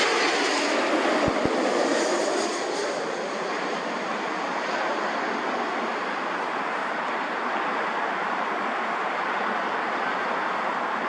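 Airplane at New York LaGuardia Airport, a broad steady jet roar from a distance with a sustained rushing hiss that holds level for the whole stretch.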